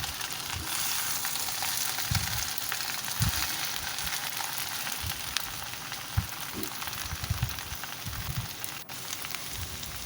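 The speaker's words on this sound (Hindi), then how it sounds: "अब इसमें हम उबले हुए आलू डालेंगे जो हमने मैश कर लिए हैं, और इनको अच्छी तरह प्याज के साथ मिला के भून लेंगे।" Mashed boiled potatoes frying with onions for aloo paratha filling, a continuous close sizzle with occasional soft stirring knocks and scrapes, no voices.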